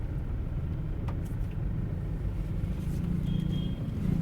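Toyota Innova Crysta cruising on a road, a low steady engine and tyre rumble from inside the cabin with faint road noise and a few light clicks, no talking.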